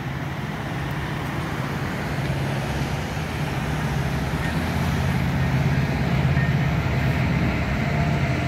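Norfolk Southern freight train NS 212, led by AC44 locomotives, rolls past in Clemson, South Carolina with a steady, dense rumbling roar that swells slightly as it continues.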